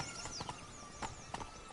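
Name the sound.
horse galloping in the video game The Witcher 3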